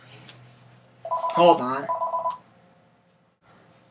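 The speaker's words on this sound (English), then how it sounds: "they obviously aren't going to quit ringing the phone until I picked it up" A landline telephone rings in a single loud burst of electronic warbling tones close to the microphone, and a voice speaks briefly over it before the ringing cuts off.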